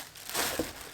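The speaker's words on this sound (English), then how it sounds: "and plastic bag" Soft crinkling of a plastic bag being handled while unboxing a LetPot hydroponics unit packed in foam, a brief quiet rustle close up.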